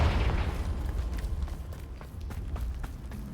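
The Confringo blasting spell in Hogwarts Legacy goes off as a fiery game explosion, a booming burst at the start that decays into rumble with scattered footsteps-like thuds.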